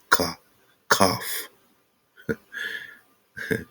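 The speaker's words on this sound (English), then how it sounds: "we had the hard cough" Four hard, harsh coughs close to the microphone, spaced apart with short silences between them.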